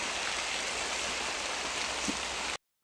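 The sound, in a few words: rain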